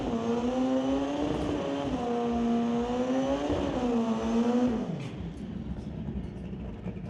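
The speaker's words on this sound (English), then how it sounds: "Austin riding the quickest Kawasaki in the world at the moment." A Kawasaki drag racing motorcycle roars past at full throttle, a loud sustained engine note rising and dipping briefly before fading away into the ambient noise of the drag strip.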